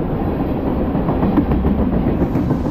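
A westbound manifest freight train rolls past on the Conrail Lehigh Line with a steady, loud rumble and a continuous clickety-clack of wheels over rail joints.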